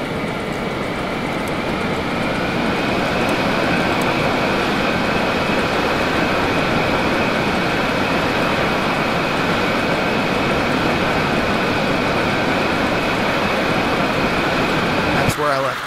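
A video game biplane engine drones continuously and loudly, a steady mechanical hum with a faint whine, unbroken for the whole stretch until a brief knock at the very end.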